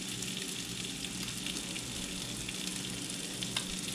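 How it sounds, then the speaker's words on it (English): Thin blackened pond bass fillets searing in a hot pan, a steady loud crackling sizzle that continues without a break. "We'll get a really hard sear on that."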